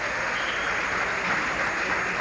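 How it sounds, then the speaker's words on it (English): A crowd at a 1989 high school basketball game, Wesclin vs Highland, applauds with a steady, fairly faint wash of clapping that holds evenly throughout, with no talking. "Gets a good hand from the crowd."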